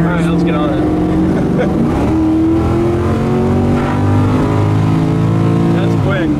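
An LS-powered 1980 Camaro accelerates hard from inside the car, its engine note rising loud and steady, dropping at a gear shift around two seconds in, then climbing again toward another shift.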